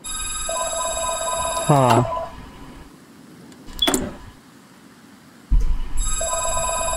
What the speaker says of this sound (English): sorry if you can hear that phone ringing